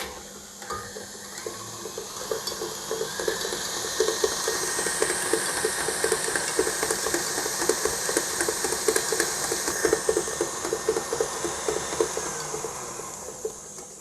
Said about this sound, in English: I'm going to beat this for about a minute until the chia seeds mixture gets incorporated into the butter and sugar